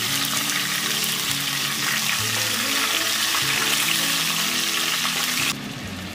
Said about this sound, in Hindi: ये घी के अंदर अभी मैं 2 मिनट तक अच्छे से इसको फ्राई कर लेती हूँ